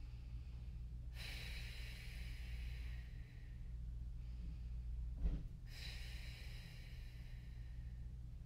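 Deep breathing during a hip shift squat exercise with opposite arm reach: two long, close breaths, a slow inhale then an exhale a few seconds later, over a faint steady hum.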